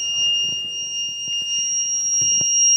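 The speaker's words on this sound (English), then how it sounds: "After face mask detection, an LED and a buzzer is glowing." A buzzer on a face mask detection system sounds a steady, continuous electronic tone that holds unbroken throughout, with faint low thumps beneath it.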